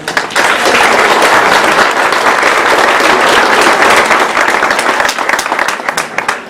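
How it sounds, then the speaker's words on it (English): A crowd applauds at a ribbon cutting for a new family health centre facility. The clapping is loud and close, holds steady, then thins slightly near the end. "So please join me in a round of applause."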